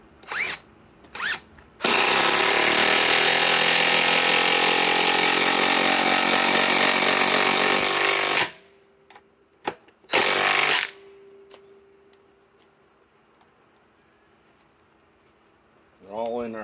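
A cordless drill driving screws into wood whirs loudly for several seconds after short bursts, then stops; quieter spurts follow and a voice speaks briefly near the end.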